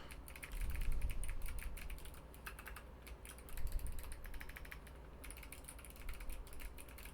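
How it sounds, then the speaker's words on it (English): Typing on a computer keyboard sits behind a microphone mounted on a boom arm, producing a steady run of faint, quick key clicks in uneven bursts with no talking. "Now I'm going to do a keyboard typing test"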